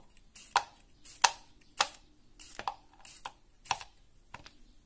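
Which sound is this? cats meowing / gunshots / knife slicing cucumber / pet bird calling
knife slicing cucumber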